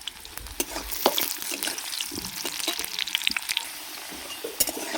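Potato pieces frying in mustard oil in a wok, a steady close sizzle with scraping stirs and scattered pops and crackles throughout, no talking.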